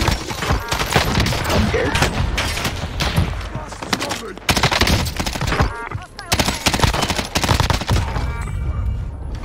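Dense, rapid gunfire from automatic weapons in Call of Duty Warzone on Rebirth Island, loud bursts overlapping almost continuously with heavy thumps, while players talk over the shooting.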